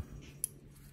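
Bonsai scissors make a single quick snip through a small branch, one sharp close click in an otherwise quiet moment.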